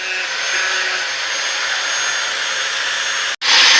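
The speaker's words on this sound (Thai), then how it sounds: "ตอนนี้ก็เจียอันที่เรา เชื่อมไว้นะครับออกนะครับ" An angle grinder grinds welded scrap metal off a rice mill, giving a loud, steady high-pitched whine that drops out briefly near the end, then resumes even louder.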